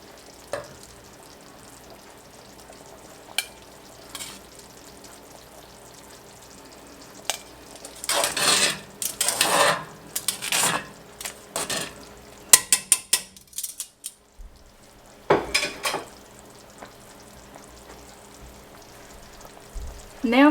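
Vegetables for a New Orleans-style gumbo sizzle and fry in a pot, with bursts of stirring and spoon scrapes against the pot over a steady frying hiss, some pauses between active stirring.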